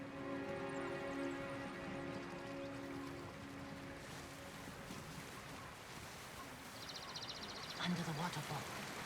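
A waterfall in the Ghost of Tsushima video game makes a steady, broad rushing roar throughout, with soft sustained musical tones in the opening seconds and a brief low murmur near the end.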